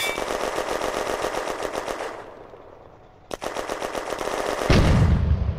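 Panzer 38T tank firing in a 1940 war video game, its gun chattering in rapid bursts, a short lull, then a sharp crack and more sustained firing ending in a heavier low rumble.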